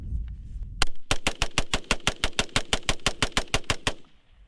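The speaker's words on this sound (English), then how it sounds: "So this gun is semi-automatic, so every time I pull the trigger there's going to be a bullet leaving out the end of the chamber." A semi-automatic rifle fitted with a bump stock fires a rapid string of about fifteen evenly spaced, sharp, loud shots after a single opening round, then stops, close and outdoors.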